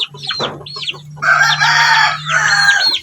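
Shamo chickens, a gray one among them, cluck up close before a rooster lets out a loud, drawn-out crow in a farmyard setting.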